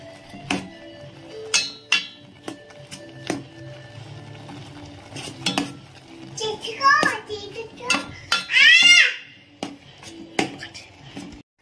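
Maggi noodles being stirred with masala in a pan, a son cooking, with scattered utensil clinks and scrapes against the pan between bursts of clattering, close and fairly loud, with a voice heard briefly.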